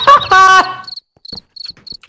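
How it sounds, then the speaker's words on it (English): In a video game, crickets chirp in short, sharp bursts after a brief loud tonal sound at the start, the chirps spaced out and fairly clear. "Jump scared by crickets."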